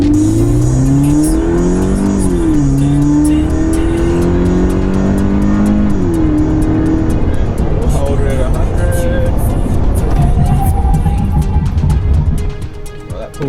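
A Toyota 86 sports car accelerates hard to 100 km/h, its engine climbing through gear shifts with a loud rising drone, then braking firmly as the noise falls away near the end.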